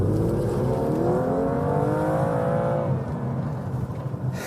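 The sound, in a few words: BMW M2 smoky burnout with wheel spin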